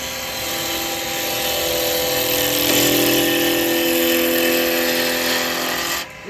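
Wood lathe spinning a workpiece as a woodturning cut begins, a steady loud motor hum and whine with a rising tool-on-wood rasp that drops away abruptly at the end.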